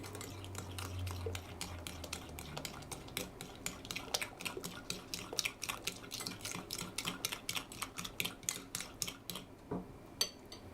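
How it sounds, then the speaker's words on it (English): Muffin batter is stirred briskly in a bowl, the utensil knocking the side in a fast, fairly regular run of close clinks and scrapes that stops shortly before the end. "just give this a good stir again until it's all well blended"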